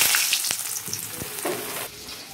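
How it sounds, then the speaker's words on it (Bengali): Potato pieces fry in hot oil in a pan after bitter gourd, a close bright sizzle with short scraping stirs and pops, fading slightly toward the end. "এবার আমি আলুগুলো দিয়ে ভেজে নেব।"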